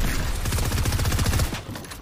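Rapid automatic gunfire from a Fortnite match fires in a dense, loud burst lasting over a second, then thins out into quieter game noise.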